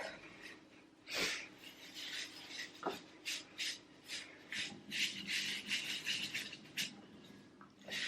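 A rough, abrasive Body Shop exfoliator scrubs across skin in repeated close, soft rasping strokes with an uneven rhythm, fairly quiet.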